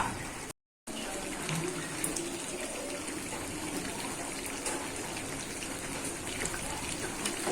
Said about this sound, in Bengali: কিরকম মেঘ ডাকছে আর বাইরে দারুণ বৃষ্টি পড়ছে।